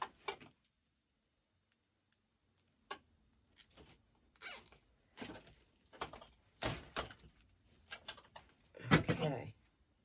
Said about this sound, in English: and zip tie this to the back